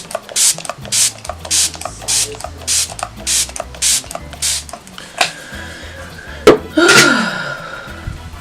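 A MAC cosmetic setting spray bottle mists in about ten short, evenly spaced hissing pumps, close by, followed by a few clicks and rustling.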